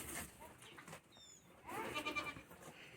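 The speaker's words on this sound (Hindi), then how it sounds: "और वो रही एक बकरी।" A goat on a hillside chicken farm gives a short, faint bleat against quiet outdoor background noise, with a little bird chirping nearby.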